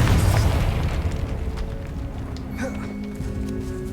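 A Confringo blasting spell exploding in the catacombs of Hogwarts Legacy, a loud deep boom at the start rolling into a sustained rumble, with faint debris clatter and thin tonal hums as it gradually settles.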